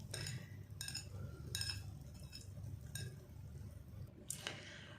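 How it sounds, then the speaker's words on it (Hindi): Flour stirred into pancake batter in a bowl: soft, close scraping and whisking with a few distinct clinks of a utensil against the bowl in a slow, irregular rhythm, with low background hum and no talking. "अच्छे से हमने मिक्स कर लिए मैदे को"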